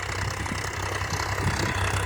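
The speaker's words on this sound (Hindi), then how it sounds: "और वो आ चुका है ट्रैक्टर।" A tractor engine idling, a steady low rumbling chug that holds constant and fairly loud from start to finish, with no voices.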